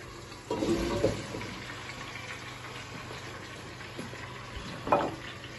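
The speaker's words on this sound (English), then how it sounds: "And so in goes the squash." Pieces of winter squash go into a pan of leeks frying in olive oil, with a burst of louder sizzling and clatter as they land. A steady, moderate frying hiss follows, and a second short flare of sizzle comes near the end.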